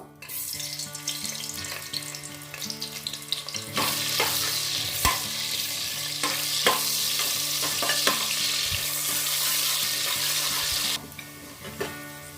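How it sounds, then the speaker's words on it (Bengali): Sliced onions fry in hot oil and ghee for beresta, a dense crackling sizzle that grows louder partway through with stirring clatter against the pan, no talk. "এবার প্রথমে আমি বেরেস্তাটা তৈরি করে নেব।"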